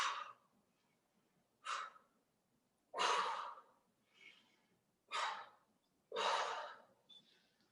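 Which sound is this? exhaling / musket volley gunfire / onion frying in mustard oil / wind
exhaling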